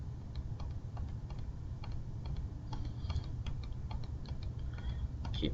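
Graphing calculator buttons pressed in quick succession, a string of faint plastic ticks and clicks over a constant loud background hiss, with no talking.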